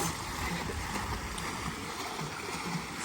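A homemade bicycle-powered boat moves across a pond with a steady rushing wash of water and churning splashes, loud and close, with no break.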